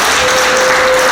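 Applause for a singer at a wedding concert, a loud dense burst of many hands clapping at once, with a faint steady tone running through it.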